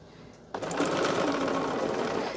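A sewing machine stitches a quilt block in a steady, fast, continuous run that starts abruptly after a quiet moment and stays loud and close to the end.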